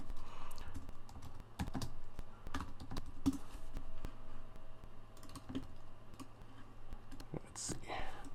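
Keys tapped on a computer keyboard while entering a password during a WildFly 15 install on CentOS 7, soft irregular clicks running steadily under a low room hum with faint background voice.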